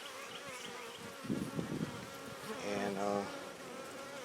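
A bee buzzes inside a one-handed bee catcher, close and fairly faint, with a few louder bursts of wing drone that rise and fade over a few seconds; a single spoken word is heard.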